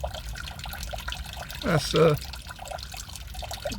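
Antifreeze and water drain from a 2002–2008 Ford Ka Mk1 radiator into a bucket, a soft trickle that briefly swells into a louder splashing pour, while someone talks quietly over it.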